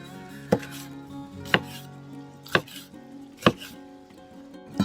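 A knife chops a meaty pepper into cubes on a cutting board, five sharp, evenly spaced strikes standing out close and clear over a low background hum.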